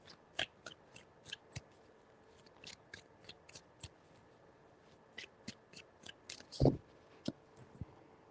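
Tarot cards being shuffled in short, crisp riffling bursts, close and fairly quiet, with a sharper tap partway through and no talk.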